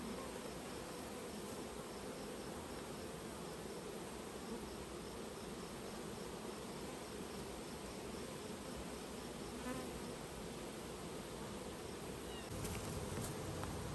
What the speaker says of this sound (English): it's just full of bees